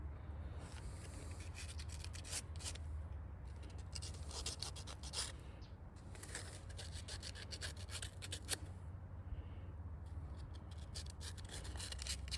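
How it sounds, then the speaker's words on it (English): Fine sandpaper rubs back and forth over a seed's hard outer shell in quick, faint scratchy strokes with short pauses, close up and soft throughout. "Now I'm using a fine sandpaper here because I couldn't find my coarse stuff."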